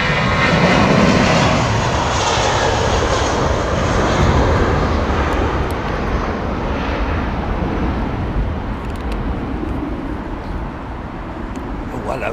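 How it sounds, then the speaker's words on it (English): A large jet airliner lands at London Heathrow Airport, its engine roar loud and broad at first and then slowly fading as it passes, while someone talks over it. "that big old lump landing in behind this beautiful Air Canada 777"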